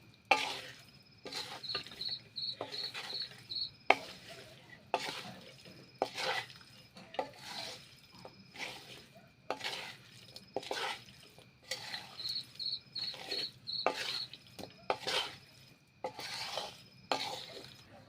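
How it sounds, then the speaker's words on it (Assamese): Olive pickle ingredients being mixed in a pot for an Assamese jolpai achar, repeated spoon scrapes and stirring strokes in an irregular rhythm, fairly close, with a faint background chirp. "এতিয়া আকৌ ভালকৈ মিক্স কৰি লৈ ল'ম"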